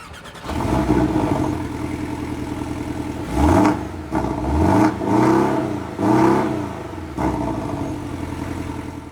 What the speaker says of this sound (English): this car's got a base exhaust notes, and let's hear it and see how it is